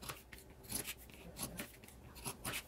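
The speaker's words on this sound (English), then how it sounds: "so now I'm going to trim this down here on the side." Scissors trim the side of a fabric sewing project for a McCall's 7575 garment, giving a series of crisp, close snips and rustling cuts at an irregular pace, quiet and without speech.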